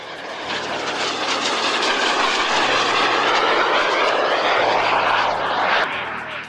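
Small kit-built light aircraft with its engine running loud and steady at close range, a broad droning roar that holds throughout before easing slightly at the end.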